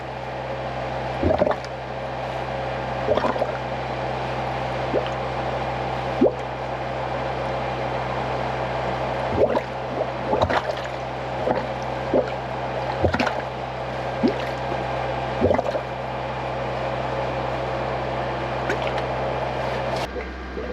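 Water jetting from a hose into a tank makes a steady rushing hiss under a constant low machine hum, broken by occasional splashes and knocks throughout.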